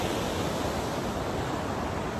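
Steady broadband rush of creek water flowing at Trestle Creek Falls, continuous and close, with no voices.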